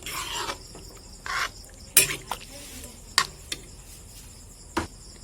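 Duck meat curry is stirred in a pan with water just added, giving a few separate scraping clinks of a spoon against the pan over a faint, quiet background hiss.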